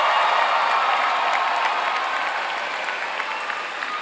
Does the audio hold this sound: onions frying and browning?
no